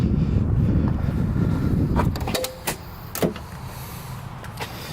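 Power sunroof on a well-kept, garaged Ford Torino closing: a steady motor whir runs for about two seconds, then stops with a few clunks and a firm seal thump, followed by quiet.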